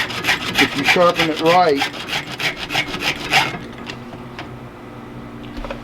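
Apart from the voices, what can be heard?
sharpening a chainsaw chain with a file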